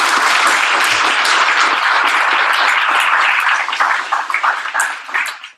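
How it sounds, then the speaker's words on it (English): Workshop attendees give a round of applause for the organizers, loud continuous clapping from a roomful of people that breaks into scattered, uneven claps as it fades out. "maybe for now an applause for them"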